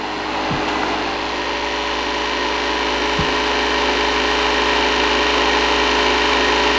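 Shark IQ RV1001AE robot vacuum running during setup indoors, a steady loud whirring hum with a constant motor drone and two faint bumps.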